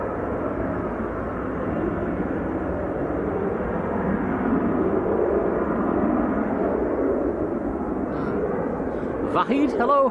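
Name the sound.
Finnair aircraft from Helsinki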